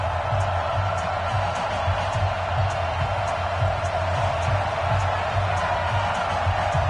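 Steady crowd roar fills a virtual NFL stadium in an EA Sports football game, the New York Jets hosting visitors late in the season, a constant wash of cheering with no distinct peaks.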